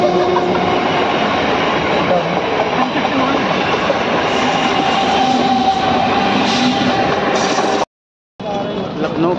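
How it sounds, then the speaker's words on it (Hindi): A train rolling past near Lucknow station, a loud sustained rumble with clattering wheels and rail noise, briefly broken by a cut before resuming, with a voice talking over it. "ट्रेन देख लीजिए।"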